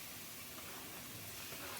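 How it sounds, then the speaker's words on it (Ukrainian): Finely shredded cabbage fries in a pan, giving a dense, steady, loud sizzling hiss with no pauses and no talk. "Протушковую все разом, смажу капусту до м'якого стану."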